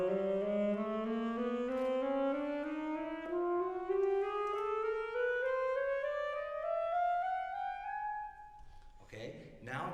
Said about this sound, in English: So first, Sam, just give us the full range of the saxophone